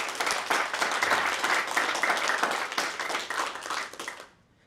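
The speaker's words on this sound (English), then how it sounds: "Can we give those students a round of applause?" Students at a SkillsUSA chapter presentation receive a round of applause: steady dense clapping from an audience that holds for about four seconds, then quickly fades out.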